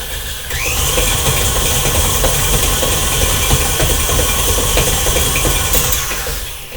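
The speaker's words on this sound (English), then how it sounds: "Now we're creaming the butter and the half a stick of Crisco with the sugar" Electric mixer creaming butter and half a stick of Crisco with sugar for chocolate chip cookies, a steady close whirring motor drone with rattling beaters that runs continuously before winding down at the end.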